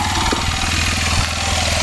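A motorcycle engine running steadily during braking on a road bike licence test, a loud, continuous close drone with a throbbing mid-range tone and no clear change in pitch.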